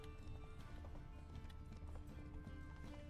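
Horse hooves clip-clop in a steady, quick rhythm in the video game Witcher 3, fairly quiet over a low background hum with no voices.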